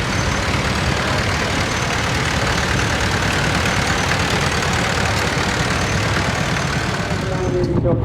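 A grey Ferguson tractor engine idles at a steam and country fair, a steady, loud low chugging rumble running unbroken throughout with faint outdoor background.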